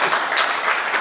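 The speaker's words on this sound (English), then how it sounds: "y'all clap for that." Audience applause at a press conference announcing a broadband development project in West Virginia, a steady, dense wash of many hands clapping that fills the whole moment without pause.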